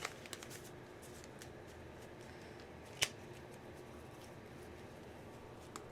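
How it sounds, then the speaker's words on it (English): A deck of tarot cards shuffled once or twice, a steady soft riffling and rustling with a few sharper card snaps, close and fairly quiet, with no talking. "let's do like 1 or 2 shuffles, and then we'll pick the cards"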